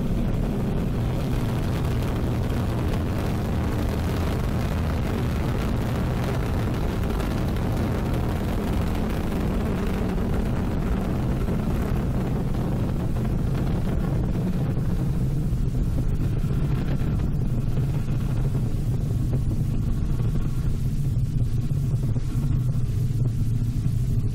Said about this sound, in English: Roar of engines, a lot of fire, and with BepiColombo on board,